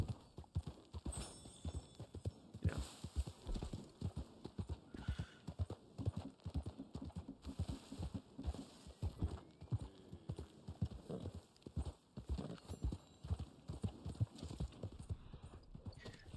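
Horse hooves clip-clop in Red Dead Online, a steady, even rhythm of hoofbeats throughout, fairly close and moderately loud with a faint hum behind.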